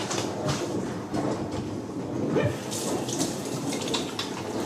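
Tap water runs steadily while oily hands are washed, a close, continuous rushing splash that holds for the whole stretch with no one talking.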